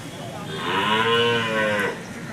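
A big horned bull at the Chattipparamba cattle market gives one long, strong, near moo that swells and then fades, over a low hum of market background.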